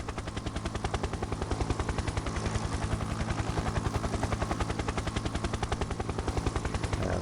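A helicopter in Factorio flies toward a helipad, its rotor thumping in a fast, steady rhythm with a dense mechanical drone, loud and continuous from start to finish.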